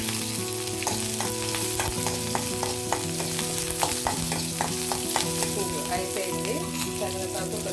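A tempering of cumin, mustard seeds, one dried red chilli, curry leaves and coriander sizzles and crackles steadily in hot oil for chutney, with stirring clicks and light pops close by; background music plays and no one speaks.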